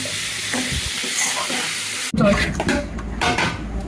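Capsicum and onion hit a hot pan for chilli soybean, and a sudden loud burst of sizzling follows a brief gap. Spatula scrapes and clatter ride over the hiss, which stays strong to the end.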